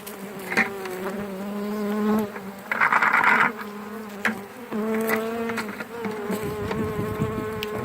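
A swarm of bees buzzes loudly and steadily while being hived, a dense close-up hum with brief louder surges as insects fly near, with no talk over it.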